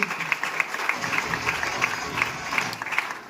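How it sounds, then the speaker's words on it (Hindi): An audience at a business speech event claps in a moderate, somewhat distant wash, with a few sharper individual claps standing out at irregular intervals and a faint crowd murmur underneath. "जोरदार ताली चाहूंगा।"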